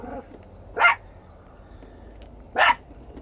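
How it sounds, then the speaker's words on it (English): A small dog gives two short, sharp barks about two seconds apart, close and clear over quiet background noise. "I'll get the little dog out."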